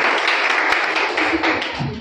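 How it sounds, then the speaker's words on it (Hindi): A hall full of people applauds continuously at a hospital cultural event, dense clapping close and fairly loud, with voices rising underneath. "प्लीज तालियां बजाते रहें"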